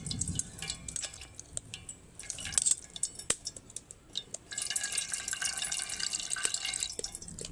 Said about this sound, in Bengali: সেটার ওপরে চামচ বলুন খুন্তি বলুন কিছু একটা দিয়ে চাপ দিলে একদম পিওর রসটা কিন্তু বেরিয়ে যাচ্ছে।